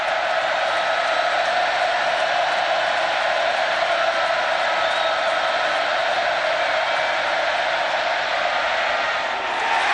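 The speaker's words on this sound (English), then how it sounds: "The crowd into it." A large football stadium crowd at Texas A&M roars in a sustained, loud wash of cheering on a fourth-down play, with no distinct voices standing out.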